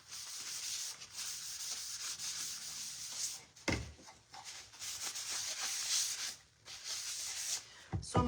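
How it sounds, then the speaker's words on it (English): Light hand sanding with 80 grit sandpaper on a craft piece being prepped for an Easter bunny transfer: steady scratchy rubbing strokes, close and fairly loud, with a few brief pauses and handling knocks. "So just very lightly sand where you know your transfer will be attached."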